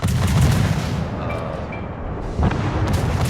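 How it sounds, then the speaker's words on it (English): Main battery of the IJN destroyer Akizuki in World of Warships firing twin-barrel turret volleys, a loud rumbling boom at the start that fades out, then a second blast near the end, against continuous heavy low rumble. "I'm putting out, I believe it's 8 shells per volley"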